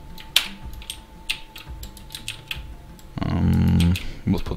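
Close, loud computer keyboard typing clatters in quick irregular bursts of clicks during a 3D modeling session, with a louder sustained noise near the end.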